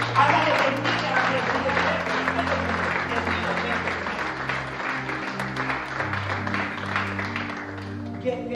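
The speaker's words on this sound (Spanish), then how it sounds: "Dele palmas al Señor" A church congregation applauds steadily and loudly for several seconds, with a low sustained tone, likely organ or keyboard, running underneath the clapping.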